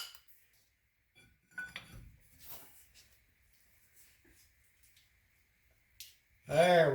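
Metal clinks and clanks as a number 14 Allen socket and a big long breaker bar are handled at the axle of a W126 Mercedes, a few short sharp contacts with someone talking around them.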